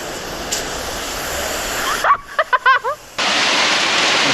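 A garden hose spraying water outdoors onto an item in a waterproof test, a steady loud hiss that pauses briefly while a dog yips and whimpers, then resumes.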